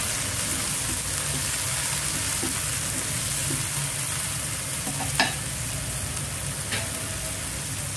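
Tomatoes for dal palak fry and sizzle steadily in a pan, a continuous close hiss with occasional soft scrapes and clicks of stirring, one sharper knock near the end.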